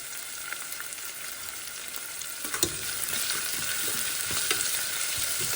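Vaddu brinjal curry ingredients fry with salt in a pan, a steady close sizzle with occasional soft scrapes and stirring taps, heard alone.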